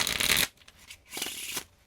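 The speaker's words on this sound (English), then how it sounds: "And then we'll just give it a little bit of a shuffle." Playing cards riffled in a deck shuffle, two bursts of crisp rapid flutter separated by a brief pause, close and clear with no talk.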